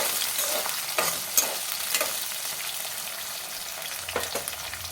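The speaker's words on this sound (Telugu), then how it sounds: "మంచిగా వేయించుకోవాలి ఆనియన్స్ పచ్చిమిర్చి" Sliced onions and green chilies frying in a pan for a potato tomato curry, a steady, moderately loud sizzle broken by a few sharp spatula scrapes.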